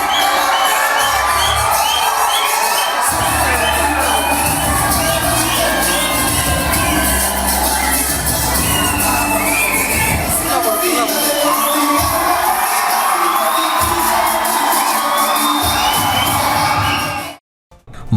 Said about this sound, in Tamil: மாணவர்களின் விசில் சத்தம் காதுகளை கிழிக்க டிவிகே என்ற கரகோஷத்துடன் ஆதவ் அர்ஜுனா மேடையேறிய நிலையில்